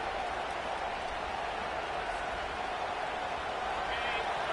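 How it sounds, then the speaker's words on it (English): A football stadium crowd roars in a dense, steady wash of cheering and applause that runs unbroken for several seconds, with a commentator talking over it. "Listen to this crowd just shaking the girders of this place, trying to help their defense."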